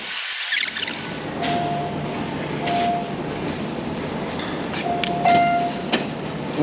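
A Glasgow Subway train rolls through the underground, a steady rumbling roar with rhythmic rail clatter and brief high-pitched wheel squeals.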